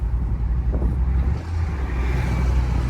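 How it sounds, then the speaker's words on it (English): 1969 Chevy Impala running steadily, a loud low engine rumble heard from inside the car while driving, with some wind noise and no voices. "Motor sounds strong."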